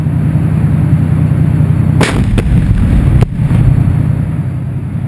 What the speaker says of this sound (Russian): Выйдя к перекрестку, танкисты бьют в дом за ним